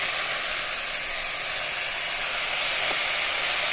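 Water added to a hot pan with cabbage in it, sending up a loud, steady, even steaming hiss that carries on without a break, close by and with no talk.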